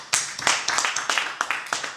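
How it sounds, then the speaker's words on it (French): Audience at a music event clapping in fairly loud, irregular bursts of hand claps, close and sharp, with some cheering or voices mixed faintly underneath. "Marc, donc MJ Prod, Marc Jacob, que je vous demande encore une fois d'applaudir s'il vous plaît."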